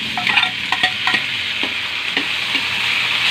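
Chicken sizzles steadily in hot oil in a pot, with a utensil clinking and scraping against the pot several times.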